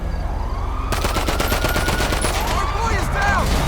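Police gunfire in the GTA Online video game, rapid repeated shots from about one second onward over a continuous loud game din, with a siren-like wail rising near the end.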